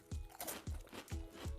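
Crunchy Doritos 3D Crunch corn chips, Spicy Ranch and Chili Cheese Nacho flavors, being chewed close up with repeated loud crunching bites in a steady rhythm, no talking.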